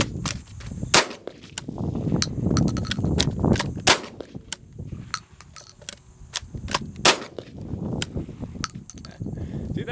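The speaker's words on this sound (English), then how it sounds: "my H&R single shot shotgun, and I'm going to try to do some speed reloading using this sleeve shell holder here" H&R single-shot 12 gauge shotgun fired repeatedly with fast reloads from a sleeve shell holder, sharp loud blasts spaced about a second apart with handling clatter between shots.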